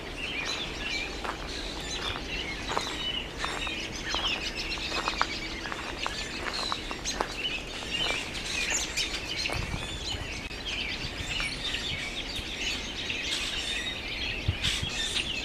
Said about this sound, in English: All the birds fascinate me.